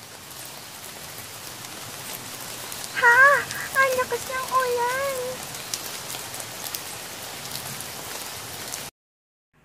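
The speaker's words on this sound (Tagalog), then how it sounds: "Biglang bumuhos ang malakas na ulan." Steady hiss of heavy rain falling throughout, with a few brief high animal cries and a short exclamation from a voice near the middle.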